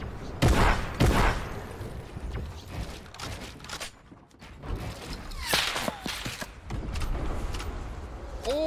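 A shotgun firing in a video game: a few sharp, loud blasts, two close together at the start and another later, over continuous game noise and mechanical clatter.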